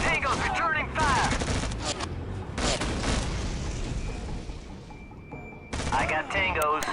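Rapid bursts of gunfire crackle back and forth in a tactical shooter game firefight, dense and loud, with radio-style voices talking between and over the volleys.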